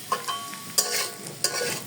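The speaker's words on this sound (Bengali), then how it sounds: "পেঁয়াজটা আগে একটু ভেজে নেব অল্প তেলে" Onions fry in a little oil in a pan, a soft steady sizzle broken by a few sharp scrapes of stirring, close and fairly quiet.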